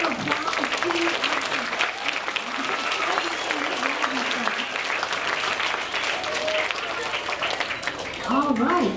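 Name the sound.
applause for a DARE graduation class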